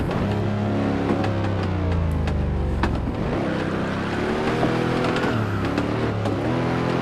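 Racing car engine in Assetto Corsa, droning steadily with a drop in pitch as the throttle closes, then holding a low rumbling tone much like an old propeller plane, loud and without speech.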